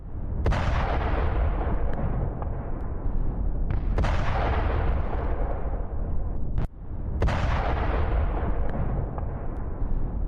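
Explosions from a Russian army strike on a Ukrainian tank near Zaporizhzhia: a continuous loud, rumbling roar with several sharp blasts cutting through, dense and heavy throughout.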